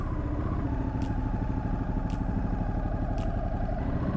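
A 2021 Ducati Hypermotard 950 with its roughly 950 cc engine idles steadily, giving a close, throbbing rumble with a slight clatter and faint periodic ticks over about four seconds.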